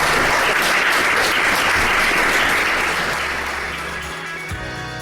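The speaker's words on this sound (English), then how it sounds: "Please clap it up for the guys." Applause from an audience at a natural wine panel at the Raw London Wine Fair fills the clip as a dense, sustained roar of clapping that slowly fades toward the end.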